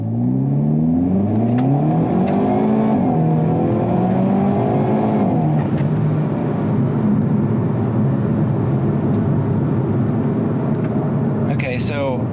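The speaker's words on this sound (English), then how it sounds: "we have a pretty loud exhaust and we have a pretty good acceleration" A 2022 Hyundai Kona N accelerates hard from inside the cabin, its loud exhaust roaring as engine revs climb in rising sweeps through the gears, then settling into a steady, heavy drone.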